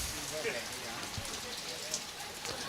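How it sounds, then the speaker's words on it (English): Steady rain patters on outdoor surfaces at a lawn bowls state championship in Queensland, a dense, even hiss of drops with no clear pauses. "all these little scuds that are coming over have heavy rain periods in them"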